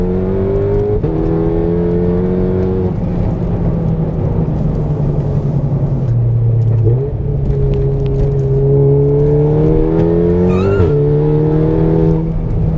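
A modified 520 hp Volkswagen Mk7 Golf R engine revs hard and climbs through the gears, its tone rising and dropping with each shift, loud and close throughout.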